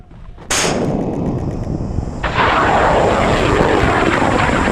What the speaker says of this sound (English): as a hobby, I fly high-powered rockets